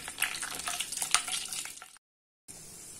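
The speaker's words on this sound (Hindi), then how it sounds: "1 सेकंड तक इसे सॉटे कर लेंगे।" Whole spices sizzle and crackle in hot oil for fish biryani, bay leaves, black cardamom, shahi jeera, cinnamon and cloves giving a loud, close, bubbling fry that cuts out briefly before resuming more softly.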